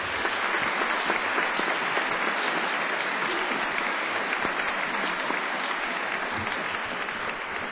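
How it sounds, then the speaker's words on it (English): A large audience at a school honors ceremony applauds with dense, steady clapping that holds evenly loud throughout. "Please join me in giving them a warm round of applause."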